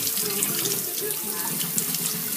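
Tap water runs steadily into a basin for a pet bird's bath, a continuous close splashing rush with no talking over it.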